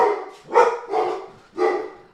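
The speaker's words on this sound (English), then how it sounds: "chaos at my house with these dogs" Several dogs bark at home in three or four loud, close bursts spread over about two seconds, with no talking.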